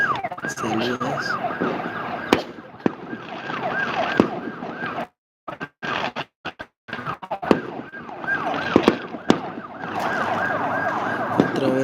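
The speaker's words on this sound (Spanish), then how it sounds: "Otra vez la bendita ambulancia, son bomberos." A fire truck or ambulance siren wails repeatedly on a New Year's night street, rising and falling in cycles, briefly cut by gaps and sharp bangs before resuming, with faint voices in the background.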